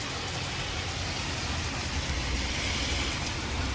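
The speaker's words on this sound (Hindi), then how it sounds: "ये देख रहे हैं आप 1 सेकंड में बारिश" Steady rain falls, likely in the UK, as a dense, constant hiss that stays even and close throughout, with no voices.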